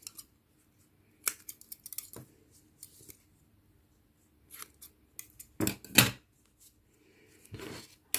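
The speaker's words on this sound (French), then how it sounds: "et je vais couper." Scissors snip through crochet yarn in a series of short, crisp cuts, some in quick pairs, close and quiet against near silence, with light handling noises between.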